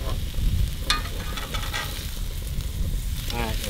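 Steak sizzling and frying in a pan at a lakeside campsite, a steady close crackle with brief brighter spatters and faint stirring, alone without talk.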